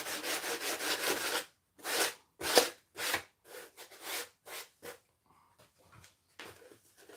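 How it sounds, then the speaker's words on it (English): Sanding with 100 grit sandpaper on a model embankment, a series of close rasping strokes, long and steady at first, then shorter and more broken with brief pauses between them. "Now this is 100 grit sandpaper, and this is where you start blending it all in."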